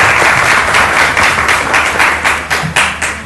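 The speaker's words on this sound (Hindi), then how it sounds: "आप लोग तालियां बजा सकते हैं, प्लीज बजा दीजिए" Loud, sustained applause from a studio audience at a televised talk show, dense clapping that fills the space and begins tapering off toward the end.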